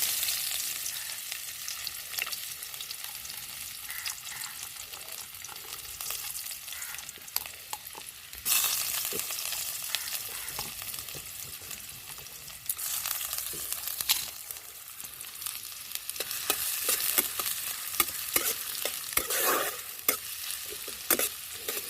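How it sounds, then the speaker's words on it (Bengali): Onions and whole garam masala spices fry in hot oil, a steady broadband sizzle running throughout with occasional stirring scrapes and crackles, close and alone without talk. "আমি ওই তেলের মধ্যে গোটা গরম মশলা ফোড়ন দিয়েছি, পেঁয়াজগুলো দিয়ে একটু ভেজে নেব হালকা।"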